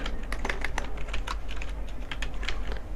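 Fingers type quickly on a computer keyboard, a close, continuous patter of light key clicks at an uneven rhythm with no speech.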